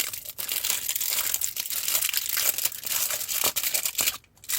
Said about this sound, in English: peeling the wrong bit off